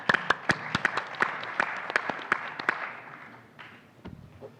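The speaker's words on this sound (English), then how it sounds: "Let's hear it for Tim. Applause." Applause at a venture capital summit panel, a few distinct nearby hand claps over a softer crowd patter that thins out and fades near the end.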